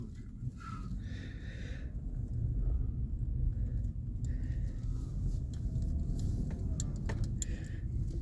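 A 2015 GMC Yukon drives along with a steady low road rumble and engine hum inside the cabin, with small ticks and rattles scattered over it.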